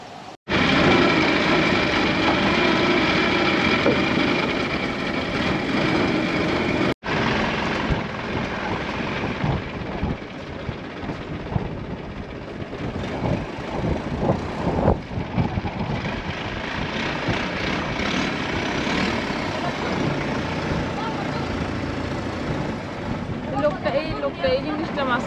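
A reserved long-tail boat's engine drones loudly and steadily throughout, mixed with heavy wind and water rush, with a sharp break early on.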